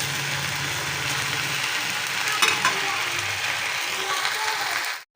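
Saag, leafy greens, stir-fried in a pan, giving a steady broadband sizzle with scraping and stirring noises throughout that stops abruptly at the end.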